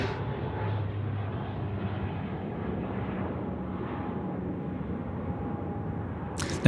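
An Airbus A321 airliner departing Sydney Airport, a steady distant jet engine rumble holding evenly throughout with no talk.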